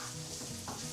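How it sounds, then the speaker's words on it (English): Vegetables for chicken fajitas are stirred in a hot pan outdoors on a sunny day, giving a steady soft scraping and sizzle that stays close and even throughout. "it's a little bit of stirring, getting things going"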